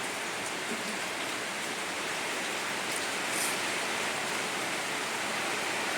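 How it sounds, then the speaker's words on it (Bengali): Steady, dense downpour hissing evenly throughout, a continuous broadband wash of heavy rain with no voices or breaks. "যা বৃষ্টির দাপট যা বৃষ্টি হচ্ছে বন্ধুরা"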